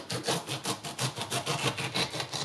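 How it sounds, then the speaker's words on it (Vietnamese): A serrated knife saws through a pineapple with quick, even back-and-forth strokes, a close rasping rhythm of about a dozen cuts with no other sound. "Để cắt thơm cho dễ thì mình sử dụng dao răng cưa"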